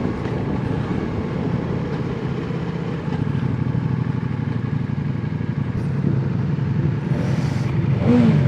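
A motorcycle engine drones steadily while riding in a high gear at low revs, a loud, close, continuous rumble that swells slightly toward the end, with no talk.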